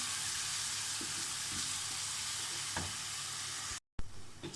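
Fresh garlic browning in a hot pan for restaurant-style Chinese rice, giving a steady loud sizzle with a few soft stirring knocks, then a brief cut to silence before the frying resumes.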